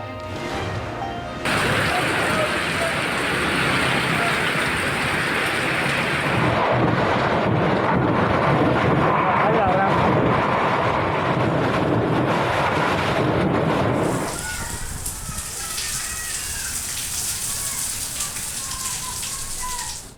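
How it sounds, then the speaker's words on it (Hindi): Heavy rain pours steadily in Karachi, a dense continuous wash of drops on surfaces with low rumbling that may be thunder, the texture shifting partway through and turning lighter and more hissing near the end. "शहर कायद के मुख्तलिफ इलाकों में कहीं हल्की कहीं तेज बारिश।"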